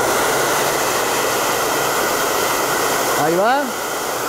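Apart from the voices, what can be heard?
hair dryer blowing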